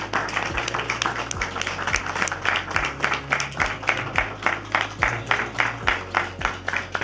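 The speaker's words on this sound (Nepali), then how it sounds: "हामी ताली बजाउनेछौँ।" A wedding ceremony crowd in a church claps in a steady, even rhythm of two or three beats per second over a low sustained musical drone, with no voices standing out.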